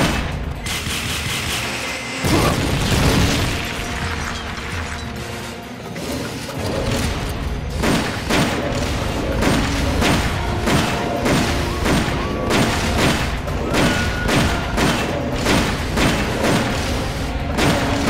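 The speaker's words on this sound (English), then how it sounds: "Firing rocket launcher." A rocket launcher fires in the video game Metal Gear Solid: Peace Walker, with dense, continuous booms and thuds pounding throughout amid loud battle noise.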